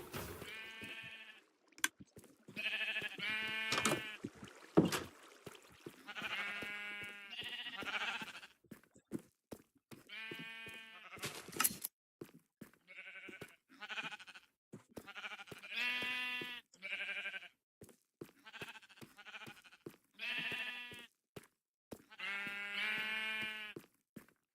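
Minecraft sheep bleat repeatedly in short, wavering calls spaced irregularly, fairly close and clear, with no talking over them.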